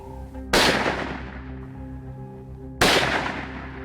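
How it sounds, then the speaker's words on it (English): Two sharp rifle shots ring out on a hunting range, about two seconds apart, each a loud close crack trailing into a long decaying echo over a low steady background hum. "We've done a few shots on the range as such."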